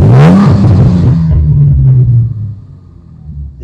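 Ford Cyclone 3.7 litre V6 in a Morgan roadster with sport central exhausts, a loud close deep rumble that swells at the start and then settles to a steadier, quieter idle.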